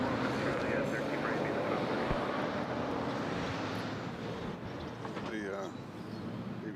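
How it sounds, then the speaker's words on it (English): An airliner lands on runway 20 left at Nashville International Airport, its broad engine roar steady and moderately distant, then fading slightly, while people talk nearby. "We got San Antonio landing on 20 left."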